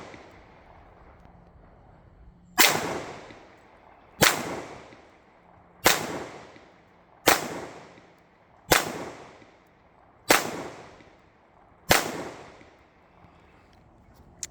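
Seven loud, sharp shots from a 1911 .45 ACP pistol fired at a steel target outdoors, evenly spaced about a second and a half apart, each followed by a short decaying echo.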